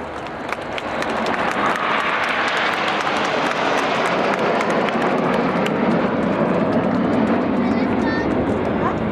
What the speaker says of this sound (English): But now in from the left-hand side to commemorate 70 years since the Dambusters, this is Lancaster.